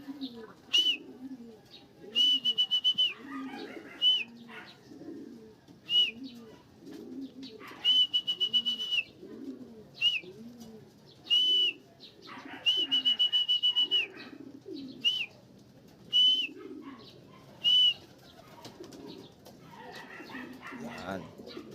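Racing pigeons coo in a steady, rhythmic murmur at a home loft after a 99 km summer training toss, with repeated bright chirping or whistling bursts overhead and a dog whimpering now and then.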